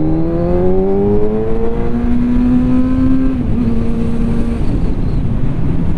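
A Kawasaki Z1000 inline-four engine climbs high through the revs while riding, a loud rising wail with stepped pitch climbs between gear changes, close and continuous over road rumble.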